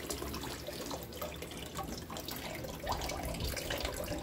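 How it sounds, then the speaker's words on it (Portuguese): Soaking water drains from a pot of mocotó (cow's foot) into a sink, a close trickle of running and splashing water with scattered drips, steady and fairly quiet, with no talk. "Agora eu vou escorrer essa água."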